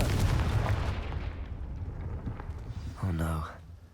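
A blasting fire spell in Hogwarts Legacy erupts with a loud boom that rumbles and fades over a few seconds, followed by a short tonal magical flourish near the end.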